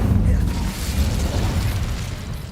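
Incendio fire spell cast in Hogwarts Legacy, a rumbling whoosh-burst of flame that swells loud at the start and rolls on as a crackling roar, with a player's voice faintly under it.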